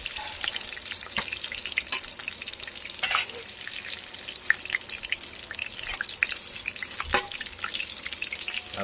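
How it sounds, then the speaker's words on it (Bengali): Brinjal slices frying in a pan on a home stove, making a steady low sizzle broken by scattered sharp pops and spatters, close by with no talking. "দেখুন, বেগুন ভাজছে।"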